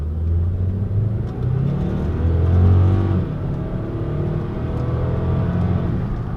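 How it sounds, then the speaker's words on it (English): A 2004 Saab 9-5 Aero accelerates hard, its engine rumbling and rising in a steady surge heard from inside the car, loud and continuous with no talking. "I'll go ahead and gun it for you guys here real quick."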